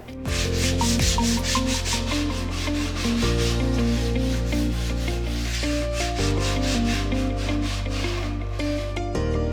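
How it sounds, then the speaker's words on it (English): Coarse-grit sandpaper rubs across wood in a steady, loud scratching stroke that keeps going without a break, while music with a steady beat plays alongside it. "So we're just gonna give it a sand here"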